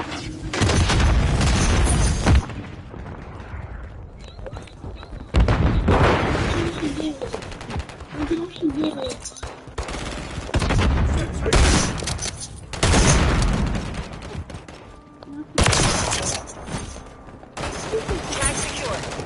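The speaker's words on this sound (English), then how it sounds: "Semtex out." Semtex grenade explosions and bursts of gunfire in Call of Duty, several loud booms and rapid fusillades arriving in separate bursts with quieter gaps between them, while players' voices talk over the combat.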